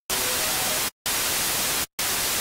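Bursts of white noise from the noise generator of a UADx PolyMAX software synth, three loud sustained hiss blocks separated by brief silent gaps, with no voice.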